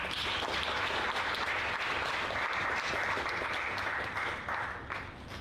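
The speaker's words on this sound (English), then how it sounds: "Let's give a round of applause for Karen" Steady round of applause from an audience at an expatriate entrepreneur awards ceremony, a dense even wash of clapping that holds for several seconds and then begins to fade.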